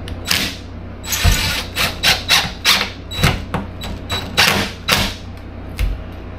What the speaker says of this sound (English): control it with these drills